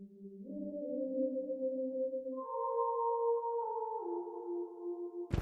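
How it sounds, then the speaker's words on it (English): FL Studio choir preset holds soft vocal chords, starting two semitones low before moving up to its normal pitch and then stepping down, smooth sustained tones alone, ending on a brief click. "Now at first this choir plays 2 semitones down before actually playing normally"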